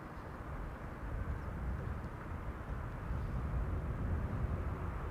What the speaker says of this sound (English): Delta A330 arriving from Minneapolis, Minnesota.